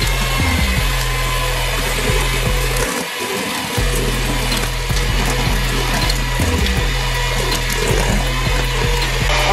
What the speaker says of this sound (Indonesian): kalau sudah masuk semuanya kita kocok dengan speed yang rendah aja atau sedang